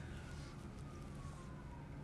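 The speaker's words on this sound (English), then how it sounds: "You can hear the sirens" A police siren wails faintly in the distance outside a window, its tone sliding slowly downward beneath a low, steady rumble of traffic.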